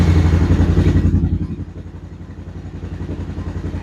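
A Honda Recon ATV engine running and being shifted through the gears: a loud, close, rough idle chugging that drops in level partway through, then settles into a steadier, quieter pulsing rumble.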